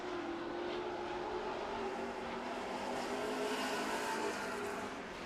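Super stock race cars roar together around a dirt track during a heat race, a steady, dense engine drone with no gaps across the whole stretch, fairly distant and uniform.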